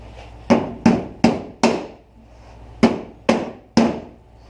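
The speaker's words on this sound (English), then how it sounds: "Forgive my use once again of a construction hammer." A construction hammer strikes a trunk lock cylinder retaining tab on a 1977 Thunderbird, giving seven sharp metallic taps in two quick bursts, close and distinct with short ringing decays.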